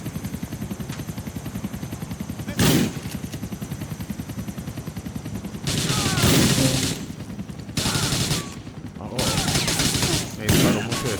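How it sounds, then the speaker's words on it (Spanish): Gunfire in the video game GTA 4, with dense, rapid bursts of automatic shooting that start and stop repeatedly, loud and close, with brief pauses between volleys. "Me disparan por todos lados."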